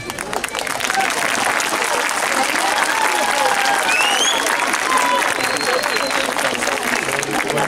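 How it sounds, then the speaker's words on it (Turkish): Concert crowd at the Mudurnu fair applauding, sustained broadband clapping that holds steady and loud for several seconds, with scattered cheers and a voice weaving faintly through the noise. "Alkış biraz az çıkıyor."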